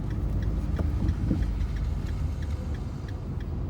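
A driving-school car pulls away in first gear as the clutch comes up and the gas is applied, giving a close, steady low engine rumble with a slight rise in effort.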